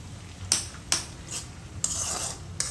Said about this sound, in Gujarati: અને આ બધાને બરાબર સરખી રીતે મિક્સ કરી દેવાનું.